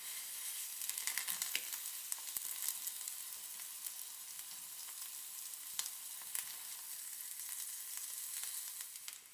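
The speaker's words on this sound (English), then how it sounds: "Heat the oil in a frying pan and saute the aubergine for about 4 minutes on each side" Sliced aubergine sautéing in hot oil in a frying pan for fried eggplant with ponzu dressing, a soft, steady crackling sizzle with scattered sharper pops, faint and continuous throughout.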